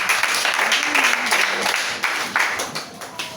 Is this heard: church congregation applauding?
yes